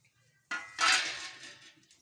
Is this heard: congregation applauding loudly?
no